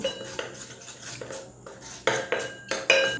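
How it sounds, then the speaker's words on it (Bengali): Flour being mixed into strained beetroot water in a bowl, heard as a series of sharp clinks and scrapes of a utensil against the dish, growing louder and more regular toward the end, close up with no talking. "ময়দাটা দিয়ে এই জলের সঙ্গে ভালো করে মিশিয়ে নিতে হবে"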